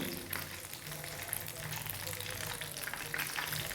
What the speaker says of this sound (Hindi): इसी तरीके से चिकन को हम अच्छे से फ्राई कर लेंगे जब तक ये चिकन अंदर से मुकम्मल पक ना जाए।